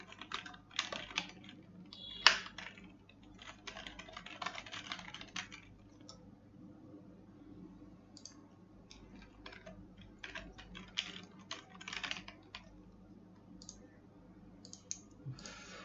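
Quiet typing on a computer keyboard, irregular bursts of soft key clicks with short pauses between, close and faint with no talking.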